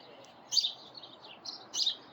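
A small fluffy baby bird chirps outdoors in three or four short, high, thin tweets spaced irregularly over a quiet background.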